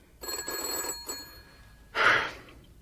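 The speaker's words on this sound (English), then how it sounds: "The telephone, that is. It's ringing, Françoise." An old-style telephone bell rings in two bursts, a longer ring and then a shorter, louder one after a brief pause. It is close and clear, with no voices.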